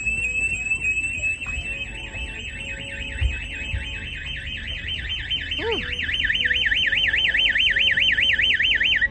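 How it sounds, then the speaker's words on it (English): A SimpliSafe home security system alarm, installed on a Nordhavn 43 trawler, wails continuously with a rapid warbling tone, loud and close, growing faster toward the end, with a brief low background noise. "That was just a false alarm."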